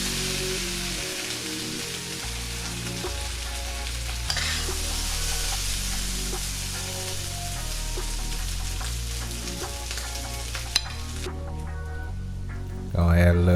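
Pork fried rice with oyster sauce being stirred in a hot pan, a steady close sizzle with faint scraping throughout that swells slightly near the end.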